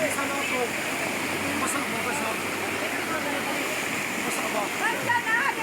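Rushing stream water at a bathing spot near a hot spring in Davao Oriental, a steady broadband wash of flowing water that continues without a break.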